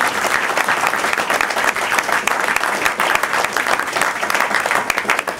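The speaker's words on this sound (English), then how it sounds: "So let's give a round of applause." A school district board meeting audience breaks into a round of applause, dense and steady clapping from a crowd that holds at an even loudness throughout.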